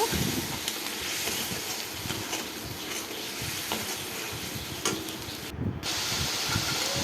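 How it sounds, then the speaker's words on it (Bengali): Spices and chopped tomatoes fry together in a pan, giving a steady close sizzle and hiss with occasional stirring scrapes throughout. "মশলা আর টমেটো একসাথে ভালো করে আমি কষিয়ে নেব।"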